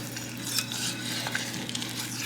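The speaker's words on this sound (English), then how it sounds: "And I'm pulling out my half moon whisk that a lovely viewer got for me." A half moon whisk works through a bechamel sauce in a pan, making a soft continuous stirring and swishing with light scraping, close by and fairly quiet, with no voices.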